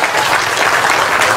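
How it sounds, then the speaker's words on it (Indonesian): A crowd at a political rally in Malaysia claps continuously, a dense, lively burst of applause that fills the short clip. "Satu tepukan gemuruh untuk beliau."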